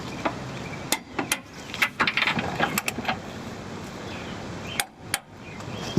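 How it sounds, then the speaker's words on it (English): A torque wrench tightens the control-arm-to-body bolts on a truck during a suspension rebuild, giving several sharp, close clicks spread unevenly over steady background noise. "Now we have to torque these two down, and we're done."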